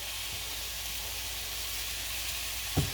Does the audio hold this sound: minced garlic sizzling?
yes